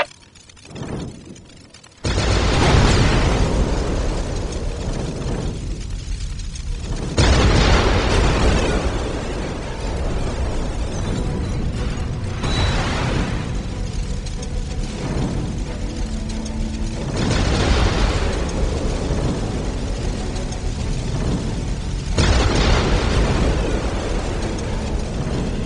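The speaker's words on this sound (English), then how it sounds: "Whirlwind artillery tank here." Whirlwind artillery tank in the Warhammer 40,000 Dawn of War video game: a dense, sustained barrage of loud explosions and rumbling blasts that swell in repeated waves, with clanking mechanical noise underneath.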